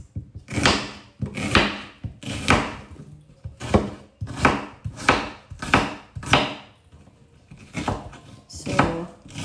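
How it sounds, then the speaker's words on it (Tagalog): An onion is chopped with a knife for beef caldereta: about a dozen heavy, close thuds on a board in a loose, steady rhythm, alone without talk. "ihiwain na natin yung sibuyas"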